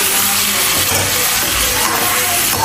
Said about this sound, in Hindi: हमारा ऑयल गर्म हो गया है, और अब ये करी जी इसमें ऐड करते हैं